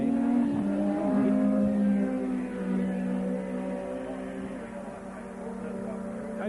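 Formula One race cars, including a Marlboro McLaren, pass through a chicane, a steady droning engine whine with shifting pitch that is heard under commentary from a distance.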